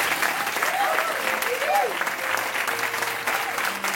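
A church congregation bursts into sustained applause to acclaim the Lord, a dense, steady clapping that fills the room, with voices rising faintly over it.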